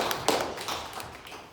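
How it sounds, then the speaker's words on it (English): A teacher claps hands during a math lesson, a few sharp taps and claps spread across the moment, close and moderately loud with no talk. "Clap the hands."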